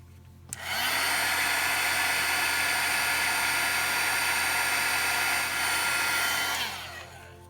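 An embossing heat tool blows hot air over embossing powder, a steady rushing whoosh that starts abruptly, holds evenly for about six seconds and then tapers off, with no talking.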